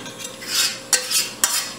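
Metal spoon scraping cooked rice from the bottom of a pot, with two sharp scrapes standing out over softer continuous scratching; close and moderately loud, no voices.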